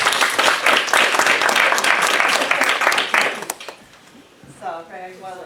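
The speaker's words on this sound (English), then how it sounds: "please give yourself a round of applause" Audience at a township council meeting breaks into loud, sustained applause for about three and a half seconds, then it stops and a voice begins speaking over the quieter room.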